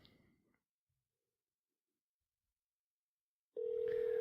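Near silence gives way to a telephone call ringing out, with a loud, steady ringback tone starting abruptly while waiting for an answer.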